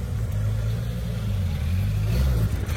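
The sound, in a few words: Ferrari car driving past at a classic car race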